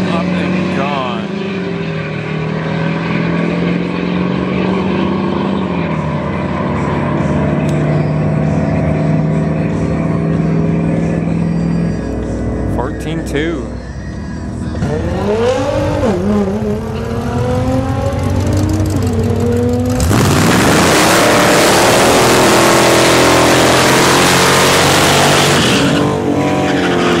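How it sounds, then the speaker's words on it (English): A turbo diesel vehicle at a drag strip test-and-tune night idles and revs in climbing and falling engine tones, then launches hard into a loud, sustained roar near the end, with voices talking over parts of it. "you guys want to see a really hard turbo diesel launch? Up and gone."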